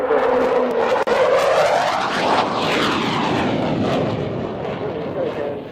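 A Canberra PR9 jet roars past loudly in an airshow flypast, engine pitch sweeping down as it passes overhead and then receding, while a commentator speaks over the noise.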